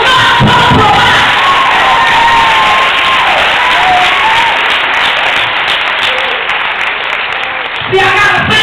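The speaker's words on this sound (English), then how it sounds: "I want you to clap" A church congregation claps and cheers loudly and continuously during a service, a dense crowd roar with shouts and applause filling the room, with a voice rising over it near the end.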